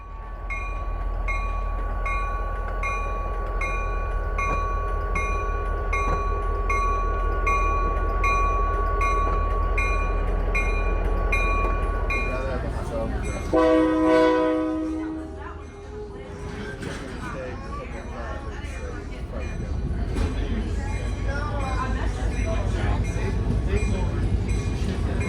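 A Reading & Northern passenger train rolls along with a steady rumble, and a loud horn sounds partway through before the running noise carries on.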